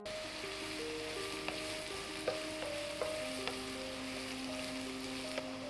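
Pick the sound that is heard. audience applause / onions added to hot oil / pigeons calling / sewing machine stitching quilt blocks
onions added to hot oil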